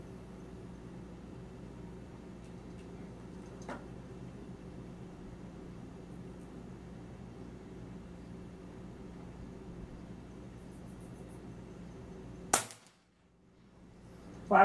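Air Venturi Avenger air rifle firing a single pellet during a grouping test, one sharp, sudden crack near the end after a long quiet stretch of faint background hum.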